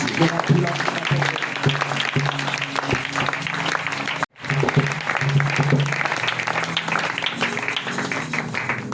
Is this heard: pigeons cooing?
no